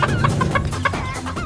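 A hen clucks in a steady run of short, close calls after laying eggs, fairly loud and with no talk over it.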